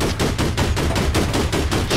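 A machine gun fires in APB Reloaded as a loud, steady stream of rapid shots, roughly seven or eight rounds per second, sustained for the whole two seconds with no voices.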